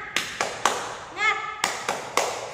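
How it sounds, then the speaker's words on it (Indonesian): Sharp hand claps in a quick rhythmic pattern, a short burst of three, a brief pause with a sung or called-out tone, then more claps. "nama ice breakingnya adalah tepuk semangat"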